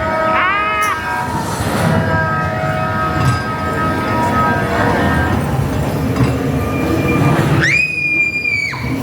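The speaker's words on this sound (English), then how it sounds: "Oh, the train's coming, the train's coming!" A ride train at Blackpool Pleasure Beach rumbles along its track nearby at night, wheels rattling steadily, with shrill squeals at the start and a loud horn-like screech near the end.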